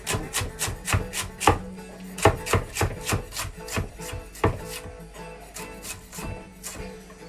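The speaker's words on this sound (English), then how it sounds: "And then tomatoes into quarters. And I've got 3 spring onions here." A knife chops tomatoes into quarters and slices spring onions in a quick, uneven run of crisp taps on a board. The chopping is close and clear, with no talking.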